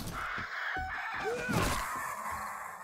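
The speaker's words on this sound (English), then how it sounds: "There is a bird." A bird calls within the video game 7 Days to Die, a few sharp crowing, cawing cries rising over steady game ambience at close range with no talk.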